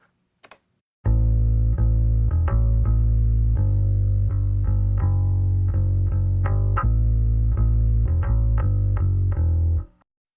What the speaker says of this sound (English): but the SVT sounds like this.